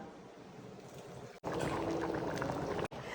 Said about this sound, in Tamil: லைட்டான தண்ணி மட்டும் ஊத்திக்கலாம்.